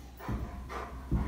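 A black Labrador pup in off-leash obedience training gives two short, close whimpering yelps about a second apart, with no talk over them.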